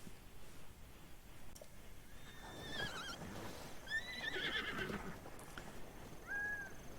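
A horse in the video game Zelda: Breath of the Wild neighs in a couple of shrill, whinnying bursts, with soft hoof clip-clops and rustling around them.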